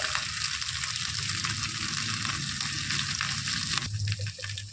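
Ginger, garlic and turmeric powder fry in hot oil with a steady, close crackling sizzle; near the end something is added and the sizzle shifts as a spoon scrapes the pan.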